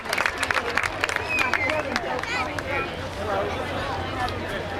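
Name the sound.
applause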